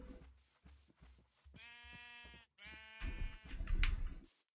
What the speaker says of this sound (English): we got some sheep